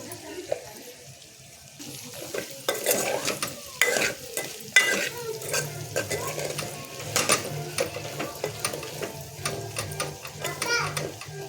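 Spiny gourd pieces fry in oil with turmeric and chili, a soft sizzle broken by frequent sharp stirring scrapes and clatters, with a voice talking over it at times.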